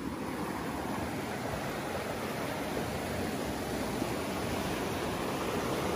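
Steady, broad rushing roar of river water on a gold prospecting trip, loud and constant throughout with no breaks and no voices.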